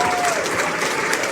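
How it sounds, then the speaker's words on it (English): A crowd at a libertarian political caucus event breaks into a short, close burst of clapping, with a few voices mixed in under the applause. "we're not clapping that people's lives have been ruined"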